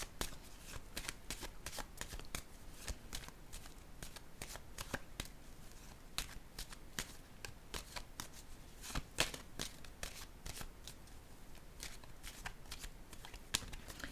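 A deck of cards is shuffled for a card reading, giving a quick, continuous riffle of crisp, close flutters that goes on alone for several seconds.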